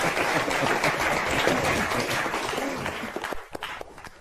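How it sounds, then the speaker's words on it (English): Crowd applause for a volunteer helper at a magic show, a dense wash of clapping that carries steadily for about three seconds and then thins to a few scattered claps before fading. "Big round of applause for her."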